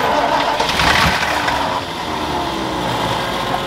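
Ford F100 truck engine, patched up with duct tape for drag racing, roaring loudly and close with a surge of revving at the start, then settling into a steady rumbling run with no talking.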